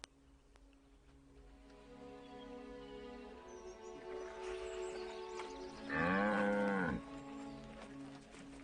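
Pedigree bull at a bustling livestock market gives one loud, drawn-out moo over a low background murmur of animals and activity.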